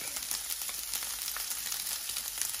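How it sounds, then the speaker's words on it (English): Ginger and garlic drop into a pot with leftover seasonings for a Caribbean pepper steak, giving a soft, even, fairly faint sizzle with no break. "I'm now going to be adding in my ginger as well as my garlic."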